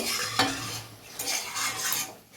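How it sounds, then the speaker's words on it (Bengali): Steamed cabbage curry in a pan is stirred to cook off its water, giving a close, soft scraping and shuffling over a light sizzle with occasional utensil taps and no voices. "আর আমি একটু এই যে জলটা আছে এটা নাড়াচাড়া করে আমি জলটাকে শুকিয়ে নেব"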